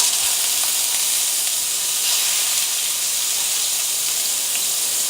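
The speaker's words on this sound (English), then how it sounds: "Now we're going to sear the filet mignons in some olive oil." Filet mignon sears in hot olive oil, giving a steady, bright hiss and sizzle that stays even and unbroken from start to finish, close and fairly loud with no talking.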